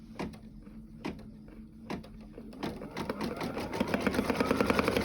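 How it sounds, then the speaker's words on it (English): Embroidery machine on fabric, with a few separate clicks and thumps before it settles into a quick, steady stitching rattle that grows denser and louder, heard close up. "place it in the machine. And then it's going to go ahead and do the first stitch"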